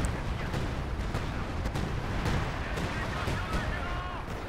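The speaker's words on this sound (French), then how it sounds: "Artillerie qui tombe au milieu." Artillery shells land in the middle of a battlefield in a strategy war game. Distant booms and crackling impacts sound over a dense, steady rumble of battle, with no pause between them.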